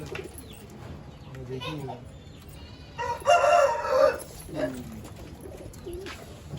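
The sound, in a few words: pigeons cooing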